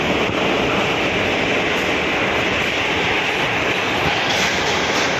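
A loud, continuous rumble and roar of a train running through the Karbude tunnel on the Konkan Railway, steady throughout with faint rattling of the cars.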